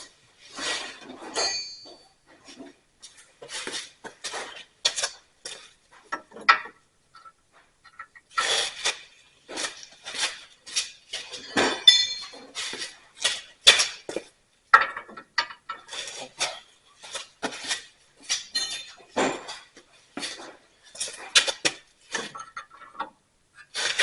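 A wrench working the hex-head slide pin of a brake caliper on a 2015 Chevrolet Silverado, giving repeated sharp metallic clicks and clinks in short bursts with quiet gaps between, close up.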